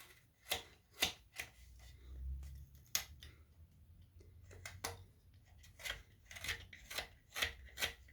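A knife hand carving a wooden snowman, with crisp, close, scraping cuts in short strokes repeating irregularly, quiet and unaccompanied by speech.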